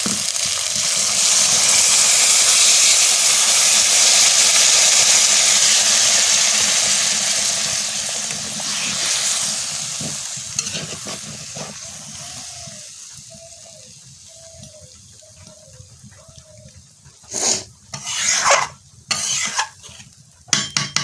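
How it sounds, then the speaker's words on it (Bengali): Hot curry in a pan sizzles loudly as water is poured in, a broad steady hiss that slowly fades and thins out, followed by a few brief clinks and knocks of utensils near the end. "আর একটু জল দিয়ে দেবো, জলটা দিয়ে দিচ্ছি।"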